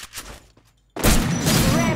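After a brief quiet stretch, a sudden loud blast erupts and keeps roaring, like a game explosion with heavy rumbling debris.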